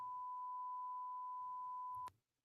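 A steady, continuous electronic beep tone holds for about two seconds, then cuts off abruptly, leaving near silence.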